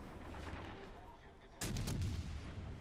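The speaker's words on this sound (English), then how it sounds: "Bam, we shoot again with the AP." Naval cruiser guns fire armour-piercing shells in the World of Warships Legends video game on PS5: a steady rumbling backdrop breaks into a sudden loud, heavy salvo boom that rolls on to the end.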